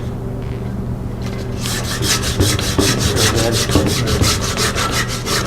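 Sandpaper fitted tightly on a spinning tool, rubbing steadily against a carved wooden goldeneye duck decoy. A close, continuous scratchy whir with a rhythmic pulsing and a brief spoken comment over it.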